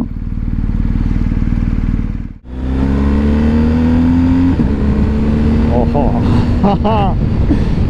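A BMW R 1250 GS twin-cylinder motorcycle engine thumps at idle, cuts briefly, then pulls away with a rising, throaty acceleration, close and loud, with gear-change chirps near the end.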